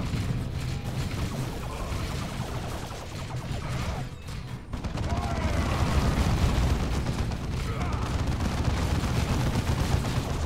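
Bomb blasts and gunfire rumble through a battle in the game Dawn of War II, a dense, continuous barrage that briefly dips before a fresh, heavier burst of explosions.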